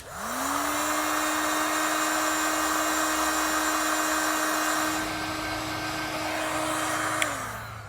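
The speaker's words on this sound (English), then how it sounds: "what I'll do is I'll take my heat gun and seal up the ends" A heat gun seals heat-shrink butt connectors on tail light wiring for a 2016 Chevrolet Spark. Its blower whirs up to a steady, fairly loud whine, holds it, then winds down near the end. No voices are heard.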